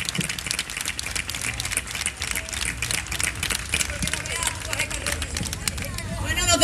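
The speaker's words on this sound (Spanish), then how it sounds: "Y que siga ese aplauso para el equipo de sonido y iluminación." An audience at an orchestra and choir concert applauds, a dense spread of clapping with crowd murmur throughout and a voice speaking over it.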